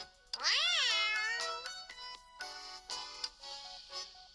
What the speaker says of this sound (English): Where'd this cat come from?